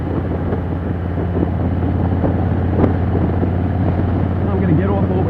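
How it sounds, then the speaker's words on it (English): Motorcycle cruising in sixth gear on a highway at around 60 at roughly 2,150 RPM, a steady loud engine drone mixed with wind rush, with a rider talking over it. "I'm in 6th gear and cruising on the bike at around 60"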